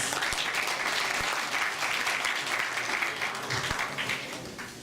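An audience at an Indian Republic Day event in a Hindu temple claps steadily, a dense sustained round of applause that fades slightly toward the end.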